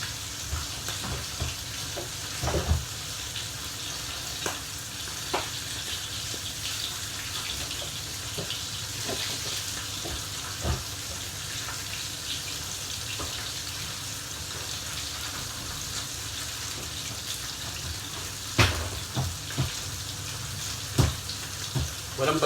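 Kangkong and eggplant fry in a pan with a soft, continuous sizzle, broken by scattered clinks and scrapes of stirring and a faint wash of running water in the background.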